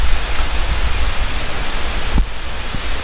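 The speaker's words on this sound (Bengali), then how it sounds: "এই হচ্ছে ইন্দ্রাণী ওয়াটারফলস এইখানটায়।" Indrani Waterfalls in the hills near Darjeeling, close up: a dense, steady broadband rush of falling, splashing water fills the whole stretch, loud and unbroken, with a couple of faint low thuds.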